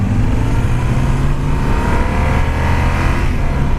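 A Yamaha Super Tenere motorcycle's engine drones steadily while engine braking on the road, a continuous loud, close rumble with no voices.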